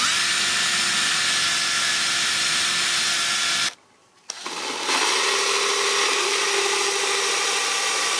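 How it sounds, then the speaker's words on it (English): A lathe machines plastic parts for a homemade relay. A steady, fairly loud whirring hum with a high whine runs for several seconds, cuts out abruptly to near silence, then resumes more quietly. "Doing some modifications to the plastic bits using the best lathe I have."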